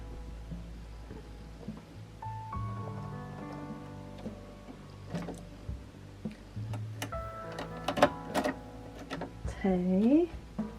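A custom embroidery machine runs close by with a steady, rapid mechanical stitching buzz and ticking while people talk over it throughout.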